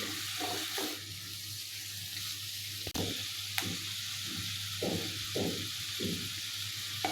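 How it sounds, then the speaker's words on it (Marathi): Vegetables are stirred in a pan over low gas, a soft sizzle running beneath repeated gentle scraping strokes and one sharp knock partway through; no one speaks. "या भाज्या कमी गॅसवरती दोन ते तीन मिनिट हलवून परतून घेऊया"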